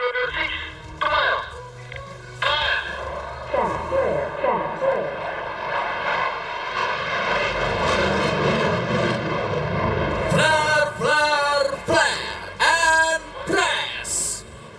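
Fighter jets, Indonesian Air Force F-16s in aerial combat maneuvers over Jakarta, roar loudly overhead with surging, shifting engine noise. A commentator talks over the sound throughout.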